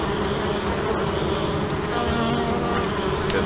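Bees swarm and buzz in a dense, continuous drone in the video game Amerzone, steady and fairly loud throughout with no talking.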